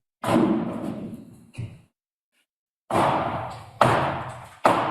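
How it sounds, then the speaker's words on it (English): Police beating on a door, heard as loud heavy thuds and bangs in separate bursts with short pauses between them, one long silent gap, and no talking. "Unless that's them beating the door."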